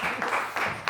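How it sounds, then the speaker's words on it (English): Brief applause from those gathered at a city swearing-in ceremony in Mount Rainier, Maryland, a short, moderately quiet patter of clapping with faint voices mixed in. "please give them a big applause"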